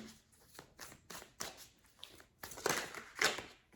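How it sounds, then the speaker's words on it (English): Soft riffling and shuffling of tarot cards, a series of quiet flicks and slides in uneven bursts, close by with no talking. "So I'm going to shuffle some more"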